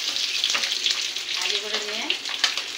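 An egg fries in a pan until browned, a close, continuous crackling sizzle with occasional stirring or scraping sounds.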